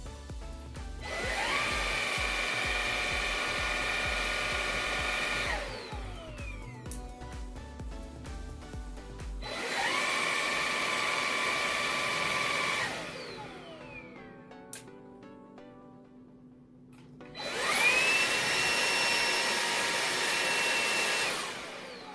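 A Xiaomi Dreame V10 cordless vacuum cleaner runs in three bursts of several seconds each, giving off a high-pitched, piercing whine over a steady motor hum, with quiet pauses between.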